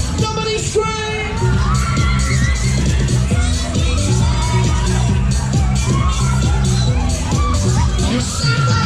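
Riders scream and whoop together on the Air Raid Extreme ride at a Leeds Valentine's fairground, loud and sustained over pounding ride music.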